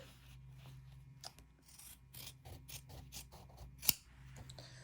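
Scissors snip through a fabric seam allowance while a lining is attached in dress sewing, a run of quiet, close, irregular cuts with one sharper snip near the end.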